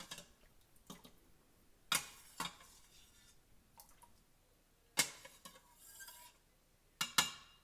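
Slotted spoon clinking and scraping against the metal insert of an Instant Pot while lifting out cooked chicken, a handful of sharp close taps at irregular intervals over quiet background.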